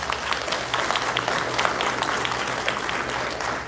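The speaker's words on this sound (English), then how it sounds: "Give him a round of applause" A crowd applauding at a comedy show in Boise, steady dense clapping from many hands with a few louder claps standing out and a low hum underneath.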